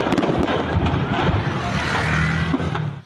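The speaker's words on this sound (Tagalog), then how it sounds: "Nagkaroon ng pagsabog sa isang pagawaan ng paputok." A fireworks factory explosion in Lapu-Lapu City, Cebu, heard as dense, unbroken crackling and popping over a rumbling roar, loud and sustained before tailing off at the very end.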